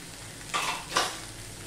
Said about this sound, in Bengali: এবার মশলাটা আমি কষিয়ে নেব।